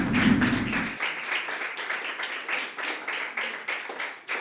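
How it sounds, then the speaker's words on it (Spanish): A church congregation claps in a steady, even rhythm, the beats fairly close and continuous after a brief low sound at the start. "Aplausos para el que vive."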